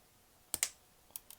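Tamiya sharp sidecutter nippers snip a plastic model part from its sprue with two crisp, close clicks in quick succession, followed by a few fainter ticks against a quiet background.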